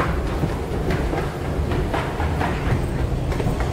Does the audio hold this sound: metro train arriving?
yes